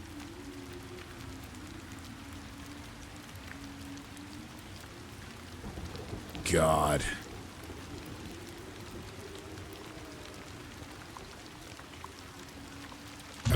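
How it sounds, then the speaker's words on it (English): Steady rain pouring in the Ghost of Yotei video game, an even hiss throughout with a low droning tone. A brief louder burst comes partway through, and one short spoken word. "Look at the rain."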